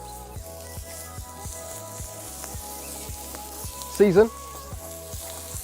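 Beef mince sizzling on a Kadai live-fire bowl for smash burgers, with a steady hiss and crackle throughout. A brief spoken word cuts in partway through.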